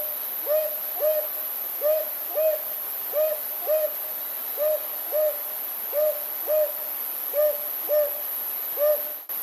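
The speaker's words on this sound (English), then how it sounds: "The great horned owl's call travels over a mile through still air" A great horned owl hooting in a steady series of about fourteen deep, evenly spaced hoots over still air, clear and moderately near with no other voices.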